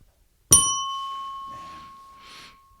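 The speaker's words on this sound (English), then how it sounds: "Sounds like we're ready for a bell." A single bell ding strikes cleanly out of silence and rings on with a long, steady, slowly fading tone, and faint murmurs sit under the decay.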